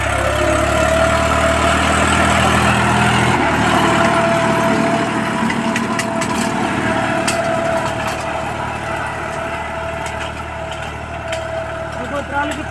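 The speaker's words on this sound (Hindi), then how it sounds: "पैंतीस HP का ट्रैक्टर है ये।" A 35 HP Massey Ferguson 7235 tractor, fitted with power steering and small 12-inch tyres and hitched to an 11-tine cultivator, idles steadily close by, a continuous low engine drone with people talking over it.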